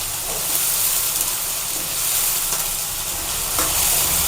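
Poha kachori filling with capsicum roasts in hot oil in a pan, giving a continuous loud sizzle and steamy hiss with a few soft clinks of stirring.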